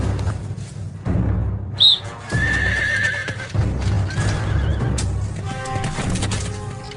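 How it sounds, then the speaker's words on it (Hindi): A horse neighs and whinnies while its hooves clip-clop steadily, loud and close over a dense, busy background throughout. "उस घोड़े को पकड़ कर लाओ।"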